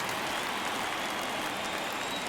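Rain falls steadily on a baseball stadium during World Series Game 1 between the Brewers and Expos, a constant broadband hiss with no voices.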